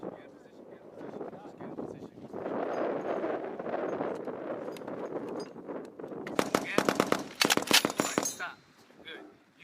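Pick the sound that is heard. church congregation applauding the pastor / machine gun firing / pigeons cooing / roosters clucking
machine gun firing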